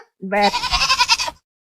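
A human voice imitates a goat's bleat: one close, loud, wavering bleat lasting about a second, rising at the start and trembling throughout before it cuts off into silence.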